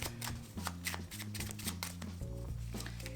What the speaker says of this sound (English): have them shuffle the deck